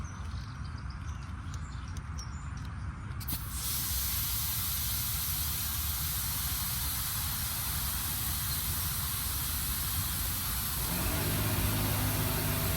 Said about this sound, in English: You can hear my compressor starting to run